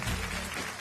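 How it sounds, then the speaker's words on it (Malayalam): A studio audience on a Malayalam TV show applauds with dense, even clapping, loud and close, cut off abruptly just before the end. "ഏറ്റവും ഗംഭീരമായ ഒരു ഉഗ്രൻ കയ്യടി"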